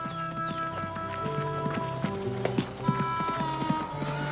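Rhythmic clip-clop of hooves under a background of tonal music, steady and moderately loud, suggesting a horse moving at pace.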